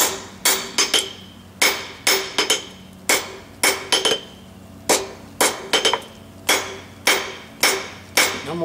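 Blacksmith's hammer strikes steel on an anvil while forging and flattening stock for tongs, sharp ringing blows in clustered pairs and triplets with brief pauses, close and loud, no talking.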